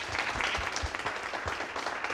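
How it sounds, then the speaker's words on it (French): An audience at a business pitch competition quarter-final claps for the jury president, Mr. Ouedraogo Abdoulafiz, with dense, steady applause filling the whole moment, close and loud, no voices on top. "M. Ouedraogo Abdoulafiz, qu'on va applaudir très fort."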